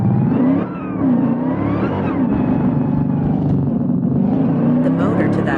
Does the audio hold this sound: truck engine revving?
yes